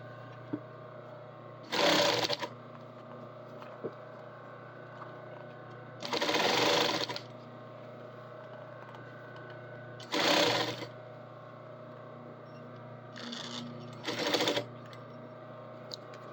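Sewing machine stitching a seam on a main assembly, heard in four loud short bursts a few seconds apart, plus a shorter double burst near the end, over a steady low hum.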